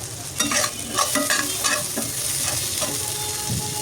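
Whole cinnamon, cardamom, cloves and black pepper sizzle in hot oil in a home kitchen pan, a loud, steady crackling hiss broken by scraping stirs, with no voices.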